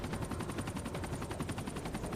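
Helicopter rotor thumping in a rapid steady pulse, mixed with bursts of machine gun fire, from the video game Max Payne 3; loud and continuous throughout with no voices.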